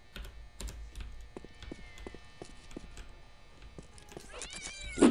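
A cat in the game Postal 2 meows repeatedly in close, clear cries spaced about half a second apart, with faint thumping steps beneath and a louder, drawn-out yowl at the end.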